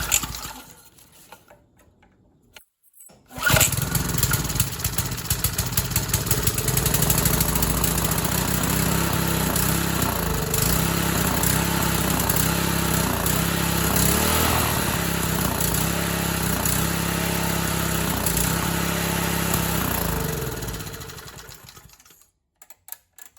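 A free Briggs & Stratton 3.5hp small engine starts after a few pulls and runs steadily and close up, with a rapid rattling putter that continues for about twenty seconds before cutting out.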